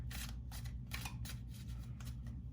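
Rapid papery riffling of tarot cards being shuffled, several quick bursts of flicking close by, with a low steady hum underneath and no talking.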